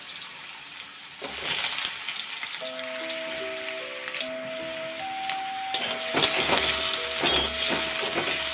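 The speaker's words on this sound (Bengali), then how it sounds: "এখন আমি আলুগুলোকে এর মধ্যে দিয়ে ফ্রাই করে দেবো।" Potato pieces go into four tablespoons of hot oil and fry with a steady, moderately loud sizzle and crackle, with a few clinks of utensils against the pan and a faint tonal hum in the background.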